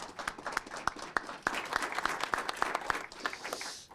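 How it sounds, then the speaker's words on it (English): A modest audience at a Moreno Valley city council meeting claps for several seconds, with individual hand claps standing out distinctly in a fairly quiet room. "if we could give them another big Moreno Valley round of applause"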